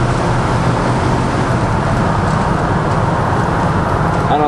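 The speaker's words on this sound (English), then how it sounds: "Hear that V8." A 1972 Ford F-100 pickup drives along a road, its V8 engine giving a steady, loud, close rumble mixed with continuous road and wind noise.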